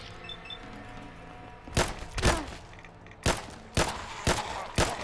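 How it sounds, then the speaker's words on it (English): Gunfire in the video game Fallout: London: about six sharp, loud shots ring out at irregular intervals, some in quick pairs, over a quiet bed of ambient game sound. "Don't mind the gunfights. The gunfire."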